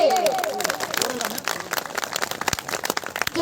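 An Adivasi community crowd at a Gondwana speech event claps hard and steadily, the applause dense and close and lasting throughout, with a brief voice at the very start.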